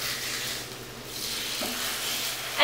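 Pork sears in a hot pan with carrots and onions, a loud, continuous sizzle that swells briefly as the meat is stirred, ending on a sharp clatter.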